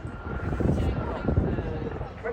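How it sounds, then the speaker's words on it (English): Gazelle helicopters of a civilian close formation display team pass over a seaside air show in Swansea, their engine and rotor roar steady and loud, mixed with wind on the microphone and a voice talking over it. "I'm telling you that the only civilian helicopter close formation display team in the UK."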